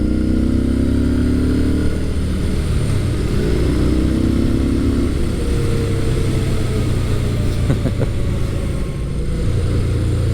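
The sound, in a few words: V-twin motorcycle engine rumble while riding through corners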